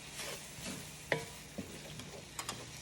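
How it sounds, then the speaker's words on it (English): Sausage gravy made with evaporated milk being stirred in a pan, a soft scraping swirl with a few sharp spoon clicks against the pan, fairly quiet and with no talking. "I'm going to stir this."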